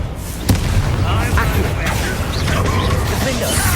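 Confringo fire spell blasts in the video game Hogwarts Legacy, a dense run of loud booming explosions with a sharp burst near the start and crackling rumble throughout, layered with game effects and dialogue.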